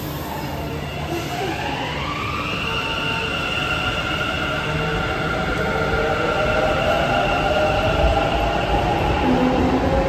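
A metro train runs in Bangalore with a loud, steady rumble and rising tonal whine of motors and wheels, continuous and close throughout, with no talking.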